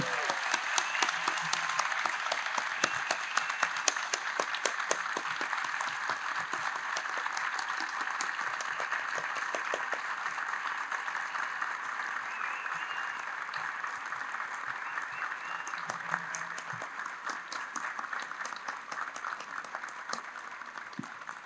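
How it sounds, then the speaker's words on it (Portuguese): Sustained applause from the audience at a plenary conference session, a continuous, even patter of many hands clapping for over twenty seconds, fairly distant and without talk. "eu queria pedir aqui uma grande salva de palmas ao colega Rafael"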